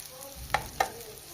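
Chicken breast frying in a pan with small pieces of onion and pepper, a low steady sizzle broken by two short, sharp stirring scrapes close by, no talk.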